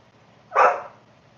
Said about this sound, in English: Oh, my dogs are ordering me around now.